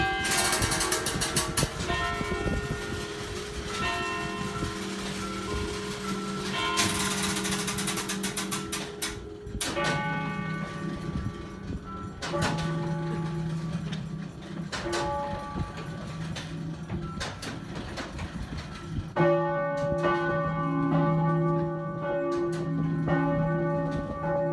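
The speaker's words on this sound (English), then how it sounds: "to witness the mechanism that operates the bells and chimes in full" A historic mechanism rings church bells and chimes in Croatia or Slovenia: loud, resonant strikes ring out in repeated clusters, and long overlapping tones decay over the whole stretch.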